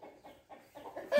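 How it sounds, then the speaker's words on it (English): Agitated chickens on a farm, a rooster and hens sounding off in short repeated clucks and squawks that swell louder toward the end, fairly close. "Oh, and I've upset the rooster."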